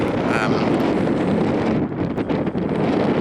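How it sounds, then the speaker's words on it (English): Strong wind at Malin Head, Ireland's most northerly point, buffets the microphone in a loud, steady roar that barely lets up, with a few brief dips near the end. "I'm sure you can hear it, it's quite windy."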